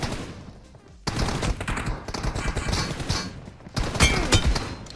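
Rapid gunfire rings out in PUBG Mobile, dense bursts of shots starting abruptly after a quiet moment and continuing loud and close, with a sharper volley near the end.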